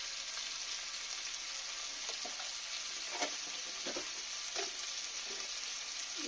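Spices and papaya sizzle and fry in a pan over low-medium heat for a vegetarian papaya curry, a steady soft crackle broken by scattered scraping stirs, with no talking.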